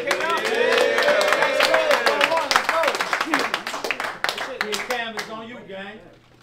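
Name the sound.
crowd clapping at a rap battle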